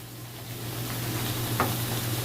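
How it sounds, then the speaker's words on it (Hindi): Quiet, steady sizzle in a wok where garlic and ginger go into frying onion for chicken yakhni pulao, a faint continuous hiss with a brief stir near the end. "लहसुन अदरक डाल देंगे"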